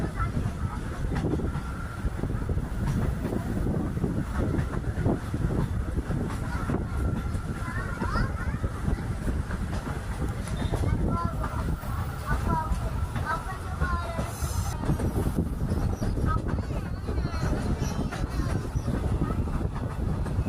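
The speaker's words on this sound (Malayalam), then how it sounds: "ബ്രിട്ടീഷുകാർ നിർമ്മിച്ച ഈ പാലത്തിലൂടെയുള്ള ട്രെയിൻ വരുന്ന ആ കാഴ്ചകൾ" A train crosses an old British-built bridge on the Kollam–Chenkottai line, its continuous rolling rumble and clatter heard at middle distance throughout, with a voice talking over it now and then.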